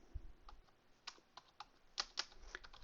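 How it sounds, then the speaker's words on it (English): Irregular typing on a computer keyboard while writing VBA code in Access 2013, with scattered keystrokes and a few louder clacks, fairly close and faint, with no voices. "my keyboard is really goofing up on me tonight."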